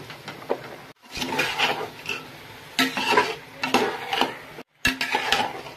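Close scraping and clattering of a spatula stirring mushrooms frying in a pan, with soft sizzling, in repeated bursts separated by short pauses.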